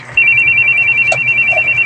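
A mobile phone rings with a steady electronic tone that holds unbroken for nearly two seconds, loud and close, over faint room noise.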